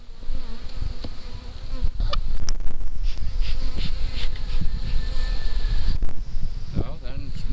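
Honey bees buzz densely around an open hive with comb exposed, a loud, constant swarming drone with individual bees zipping close past the microphone, plus occasional handling rustles and light wind.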